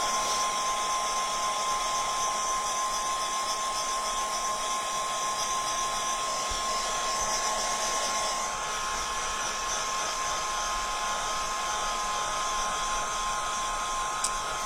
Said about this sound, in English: whether we like it or not, to get that pesky heat gun out.